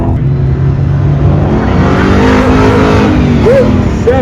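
A Corvette accelerates hard on an autocross run, its engine note steady and loud throughout with rising pitch sweeps as it climbs through the revs near the course.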